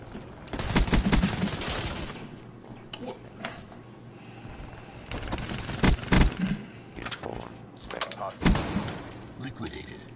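Bursts of rapid gunfire from the video game Black Ops 3 erupt in several clusters, with sharp loud volleys and quieter gaps where a person talks in between.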